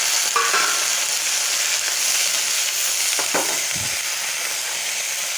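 Curry leaves fry in hot oil in a pan with ground onion and green chilies for a kootu. A constant bright sizzle runs throughout, with brief spatters and a soft utensil knock near the end.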